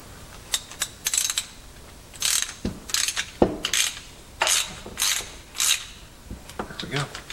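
A ratchet wrench tightens a bolt on a 1968 Cub Cadet 122 garden tractor during transmission repair work, giving repeated close metallic clicking strokes in uneven bursts with brief gaps, some louder clanks among them.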